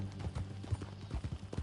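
Horse hooves clip-clop in a steady walking rhythm while being ridden, close but fairly quiet, with a low steady hum underneath and no talking.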